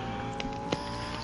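A car being driven in Fortnite, a steady engine hum with a couple of brief knocks or thumps, close and fairly loud, with no talking.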